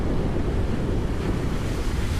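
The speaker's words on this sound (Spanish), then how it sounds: "La primera lluvia en la Tierra. Un aguacero torrencial." Torrential downpour on the early Earth, a dense, steady roar of heavy water and rushing wind that stays loud and unbroken throughout, with no voices.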